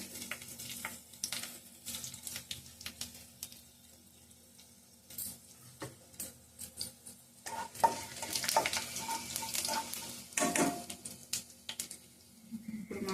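Garlic, fenugreek seeds, urad dal, chana dal and mustard seeds frying and being stirred in a pan, with uneven sizzling and scraping close by that swells in the second half, no talk.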